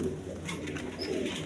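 Yellow Lahori pigeons of big size give soft, low, throaty coos in a brief murmuring burst, moderately close with light background noise and no talk.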